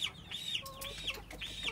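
Chickens being sold at a market cluck repeatedly, with several short, bright calls in a loose rhythm, fairly close and moderately loud against light background noise, with no talking.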